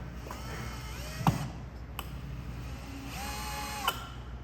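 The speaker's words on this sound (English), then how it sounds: "now I'm gonna just put the screw in" A power drill driving a screw into wood whines close by, its pitch rising and falling as it spins up and slows, with a few sharp clicks and knocks between runs.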